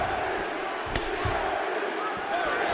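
A crowd roars and cheers in a UFC 5 fight game after a grappling exchange, a broad continuous swell of arena noise with one sharp impact.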